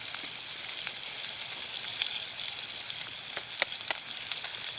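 Eggs fry in a pan over a hot winter campfire, a dense continuous sizzle and crackle that is loud and close, with occasional sharper pops.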